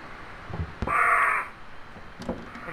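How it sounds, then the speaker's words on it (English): Crows cawing in the Home Sweet Home horror game, one loud harsh caw standing out over quieter calls and a low murky ambience, with a faint extra cry near the end. "It's just birds."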